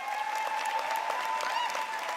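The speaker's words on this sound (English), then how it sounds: "please step out so we can give you a round of applause" A crowd applauds at a high school commencement ceremony, a dense, steady wash of clapping heard from some distance. A faint steady tone runs beneath it, and no one speaks.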